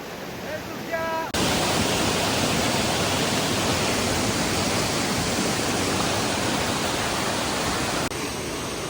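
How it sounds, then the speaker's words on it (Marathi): A loud, roaring wash of heavy monsoon rain and rushing water, steady and overwhelming after a brief quieter moment at the start, at Chalkewadi near Thoseghar, Satara. "पाण्याचा आवाज एवढा आहे की त्याच्यापर्यंत आवाज पण पोचणार नाही"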